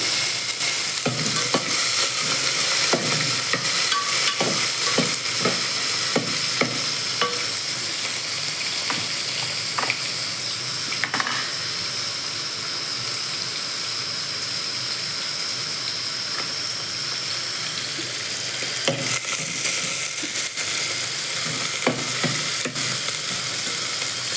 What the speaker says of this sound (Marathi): कांदा टाकलाय आता मस्त परतून घेऊया आपण हिरवी मिरची पण टाकली